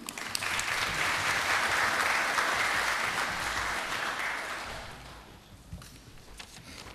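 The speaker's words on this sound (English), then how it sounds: "with a round of applause to bring her on the stage" An audience at a parliamentary firearms summit breaks into sustained applause, loud and dense clapping that fades after about five seconds into a few scattered claps and room noise.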